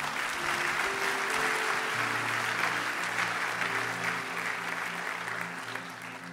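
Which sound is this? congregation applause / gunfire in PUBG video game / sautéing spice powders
congregation applause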